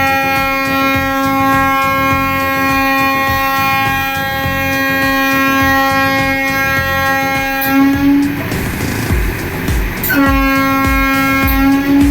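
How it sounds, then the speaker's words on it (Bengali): A Vande Bharat sleeper train departs the station on its inaugural journey with a loud, sustained tonal horn. The horn breaks off briefly into rumbling noise, then sounds again over the steady hum of the train. "ট্রেন এক্ষুনি ছেড়ে বেরিয়ে যাবে।"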